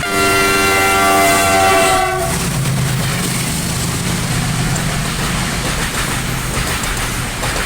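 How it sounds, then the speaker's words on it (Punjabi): A fast train passes close by on a rural Punjab route: a horn blast with stacked tones sounds first, then a loud, steady rumble of rolling wheels and carriages continues to the end, with no talk. "ਧਰਤੀ ਹਿਲਾਦੀ ਬਾਈ ਰੇਲ ਗੱਡੀ ਨੇ"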